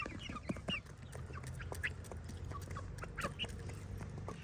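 Domestic poultry gather to eat scattered grain and sorghum seed, faint clucks and quacks mixing with soft pecking and rustling at a low, steady level without any talking.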